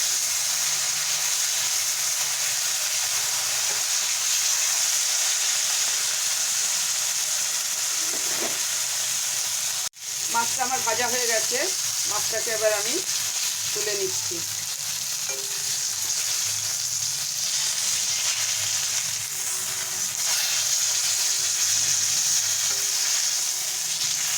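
Rohu fish pieces frying in hot oil for a Bengali macher jhal, a steady loud sizzle running throughout with brief clatter of turning the pieces midway, no voices.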